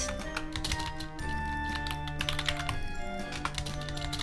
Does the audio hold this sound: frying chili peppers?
no